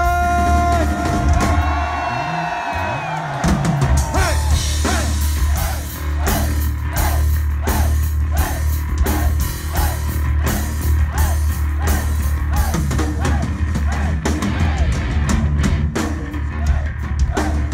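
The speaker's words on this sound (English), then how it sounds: "I want to hear the biggest Osaka scream" Concert crowd at a metal show in Osaka, Japan, screaming and yelling loudly in a packed club, a sustained roar with rhythmic pulses and bursts of whoops over a steady low rumble.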